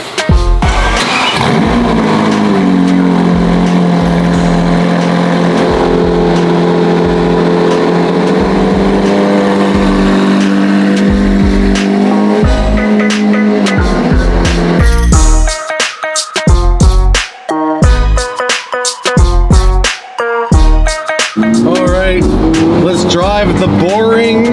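A stock Porsche Carrera GT cold-starts up close: the engine cranks and catches into a loud, high idle, then settles before a series of sharp, snarling throttle blips that rise and drop repeatedly.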